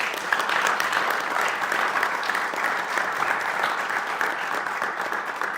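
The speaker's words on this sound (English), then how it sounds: "So a big round of applause for our coaches, please." Steady applause from an audience at a school athletics signing ceremony honors the coaches, a dense, even clatter of many hands that holds at a moderate level for several seconds without voices.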